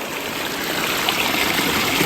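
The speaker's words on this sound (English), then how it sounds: "all the waterfall is hitting another rock. Right. So it's going to be a higher pitched sound." Koi pond waterfall pouring and splashing onto rocks, a steady close rushing of water with a bright, higher-pitched spatter, heard alone without talk.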